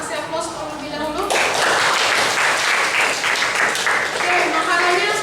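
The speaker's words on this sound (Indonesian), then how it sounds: "Kita kasih aplaus terlebih dahulu." Sustained applause from a high school class audience breaks out after a brief voice and carries on densely to the end.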